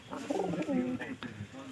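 A pair of pigeons coos softly up close, in low throaty rolling calls that repeat over a quiet background.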